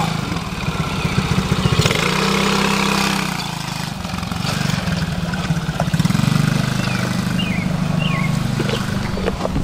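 A four-wheeler ATV engine runs close by. Its low, steady rumble rises into heavier revving twice, then settles back toward an idle.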